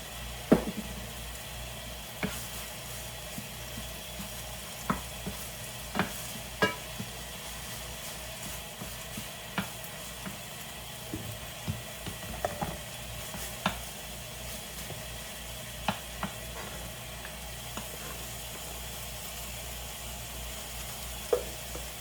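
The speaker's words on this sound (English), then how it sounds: "we're just gonna finish cooking up the meat, let that soy sauce soak in there" Ground turkey frying in a pan with low-sodium Kikkoman soy sauce, a steady close sizzle with periodic scraping stirs and taps of a utensil, no talking.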